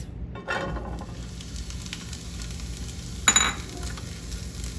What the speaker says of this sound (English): just saute that around for a couple minutes